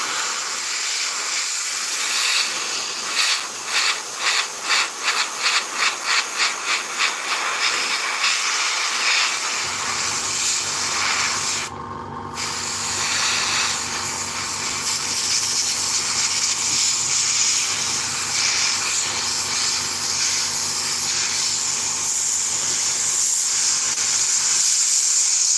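Aerosol or airbrush paint spraying inside an Italeri 1/48 scale Hawk model kit: a few short rhythmic bursts, then a long continuous close hiss that cuts out briefly and resumes, with no talking.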